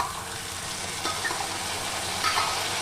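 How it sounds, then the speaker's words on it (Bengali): Boiled banana flower tipped into a pan of frying potatoes and soaked chickpeas, giving a steady close sizzle with soft stirring and a couple of brief scraping thuds as it lands. "এবার মোচাটা ঢেলে নিচ্ছি।"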